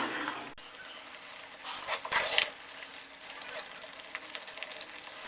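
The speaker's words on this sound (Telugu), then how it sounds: "ఒకసారి కలుపుకొని" Fenugreek tomato curry being stirred in an open pressure cooker, soft scraping and gentle sizzling with a couple of louder stirring bursts near the middle, no talking.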